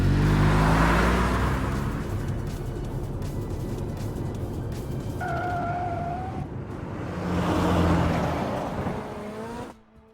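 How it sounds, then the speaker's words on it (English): A car races through city streets in the video game Love and Deepspace, its engine roaring loud and steady with a brief whine midway, surging again near the end before cutting off. "The car emerges from the tunnel and races through the streets of the killing zone."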